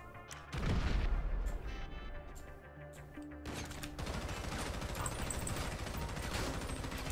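Gunfire in GTA V, rapid bursts of shots and booms in dense volleys, starting with a heavy blast and continuing as a steady rattle of fire.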